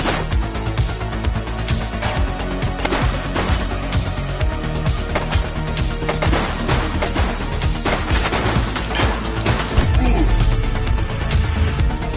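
Gunfire in the PS5 police game The Precinct: dense, loud bursts of rapid shots crackle almost nonstop over a busy game soundtrack.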